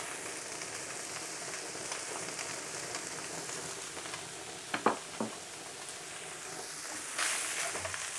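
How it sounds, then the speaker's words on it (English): Noodles tossed into a hot wok for chicken chow mein, giving a low steady sizzle with a few sharp clatters partway through and a louder burst of frying near the end. "And I'm going to add the noodles."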